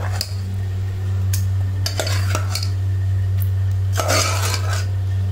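Cooked black greens (karunkeerai) being mashed with salt in a metal pot, with scattered scraping and clinking knocks of a utensil against the vessel over a constant low electrical hum, no voices.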